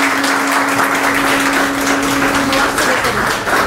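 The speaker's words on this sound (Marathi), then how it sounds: "जोशी काकांकरता जोरदार टाळ्या होऊन द्या" A crowd at a Guru Purnima ceremony in a temple hall applauds steadily throughout, a dense, loud wash of clapping with a faint steady hum underneath.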